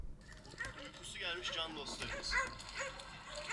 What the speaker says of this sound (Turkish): Ne kadar çok köpek.